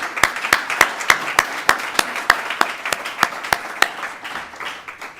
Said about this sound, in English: Please join me in applauding yourselves.